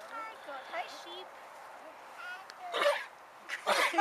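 A sheep sneezes twice near the end, sharp breathy bursts that stand out after quieter bleats, with people talking softly in the background.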